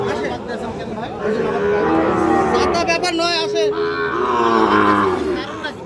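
Sahiwal bull calf mooing loudly and repeatedly at close range, the calls overlapping with people talking nearby at a busy cattle market.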